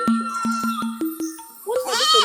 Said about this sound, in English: When I came back, I saw the goats crying.